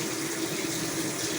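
Hot water pouring steadily into a washing machine drum for a load of towels, a continuous hissing rush of running water heard close and alone with no talking.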